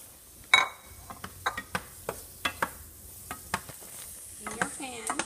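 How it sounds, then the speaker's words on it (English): Baby zucchini and English peas sautéing with garlic in a pan, heard as a string of sharp spatula clicks and scrapes against the pan over a soft, steady sizzle. "So you saute this together."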